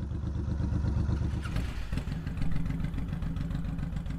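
Honda VTX 1800 cruiser motorcycle with its big V-twin engine running steadily, a loud, close, deep pulsing throb that shifts slightly partway through, with no talking.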